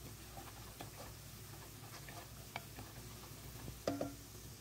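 Spices, including garlic powder and turmeric, are stirred in a cooking pan, giving faint scraping and light ticking clicks over a soft sizzle, with a couple of sharper utensil knocks near the end.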